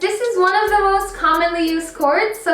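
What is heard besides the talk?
No everyday noises stand out.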